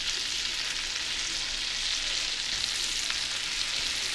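A large batch of onions fries over medium heat in a pan, giving off a steady, even sizzle with a dense hiss that stays constant and close throughout, with no voices.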